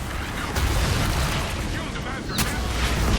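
A landmine trap exploding in Dragon Age Inquisition: booming blasts and rumbling fire-like bursts, loud and close, with a sharp crack near the end, under a voice.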